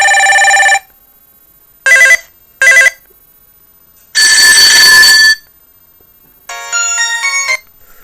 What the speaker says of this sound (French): On a 11 sonneries disponibles qui sont toutes très fortes.